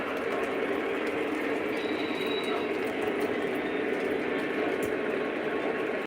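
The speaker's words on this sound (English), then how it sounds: "This is a pretty large train right now we got going" A continuous rumbling roar of a large Conrail freight train passing, steady and moderately distant, with faint rattling and clanking throughout.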